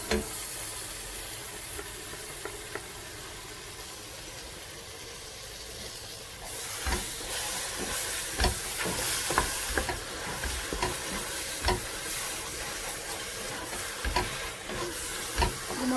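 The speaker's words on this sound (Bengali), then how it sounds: "মশলাটাকে আমি এভাবে 2 থেকে 3 মিনিট কষাবো।" Onion, garlic and dried chili paste hitting hot oil in a pan for duck curry, quiet at first, then a strong hiss and sizzle with regular stirring scrapes and clinks.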